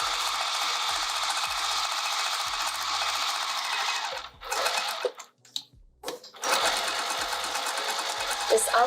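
A sewing machine runs a zigzag stitch through soft and stable foam stabilizer on a fabric pouch. Fast, steady whirring carries for several seconds, stops briefly with a few quiet clicks, then resumes at full speed.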